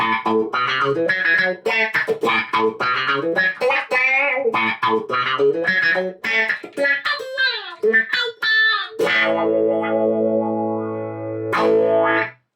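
A Rickenbacker 330 Mapleglo electric guitar plays fast, choppy funky riffs with an effected, slightly distorted tone, ending on a few sustained ringing chords.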